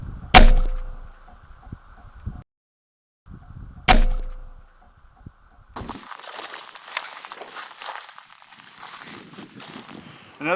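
A Umarex Gauntlet .22 caliber PCP air rifle fires outdoors while hunting hyrax, producing two sharp, loud cracks a few seconds apart, each with a short metallic ring, followed by quieter rustling and outdoor movement.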